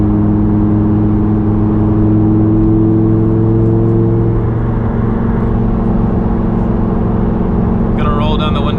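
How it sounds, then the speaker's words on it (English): A Lamborghini engine while driving on a winter night, a loud steady droning rumble close inside the cabin that holds for most of the clip, easing slightly in pitch partway through, with a brief higher chirp near the end. "keep on driving and shut up so you guys can actually listen to the engine"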